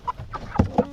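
Cornish Cross meat chickens give a few close, short clucks in quick succession, loud and clear with no talking.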